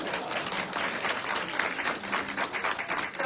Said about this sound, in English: So let's give her a round of